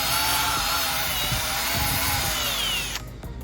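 Old sandpaper spun by a power tool against rusty coin-basket bolts from an arcade game machine, a steady, loud whirring grind that holds for about three seconds before cutting off abruptly.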